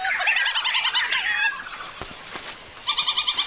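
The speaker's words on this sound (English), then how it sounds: "they squabble and wrestle furiously with one another" Petrels squabble and wrestle on the ground, giving rapid, harsh, throaty pulsing calls in loud bursts at the start and end, with scuffling and rustling between.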